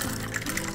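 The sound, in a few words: pouring a holiday drink into glasses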